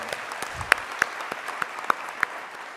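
At a university student recognition ceremony, an audience claps for a choir and band; the sound is a soft background patter of applause with a handful of distinct, nearby sharp claps at irregular intervals.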